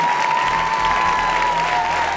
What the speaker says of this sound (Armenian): ծափարությունները չեն դադարում